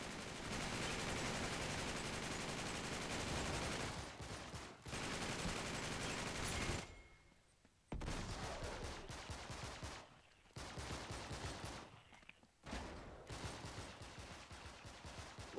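Dense sustained gunfire in a co-op shooter game on a London Underground level, loud bursts of rapid automatic fire that break off in short pauses and then resume.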